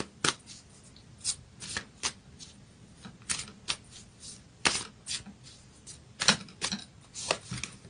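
Moonology oracle card deck being shuffled by hand, soft papery riffles and taps in an irregular rhythm, close and fairly quiet, with no talk.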